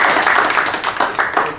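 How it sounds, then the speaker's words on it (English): A council meeting audience gives brief applause welcoming two new council directors, a burst of clapping close by that fades toward the end. "Would you join me in giving them a round of applause?"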